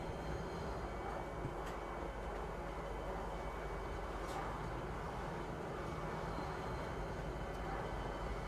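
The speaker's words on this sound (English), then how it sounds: "Train." A train in a video game rumbles past with a steady, continuous roar. A few faint clacks stand out over the unbroken mechanical drone.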